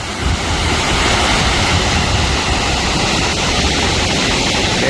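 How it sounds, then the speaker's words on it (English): A waterfall in Hagerman, Idaho roars up close as a loud, steady wash of rushing water that fills the whole scene, with no talk. "this is what it looks like when you get up close to these falls"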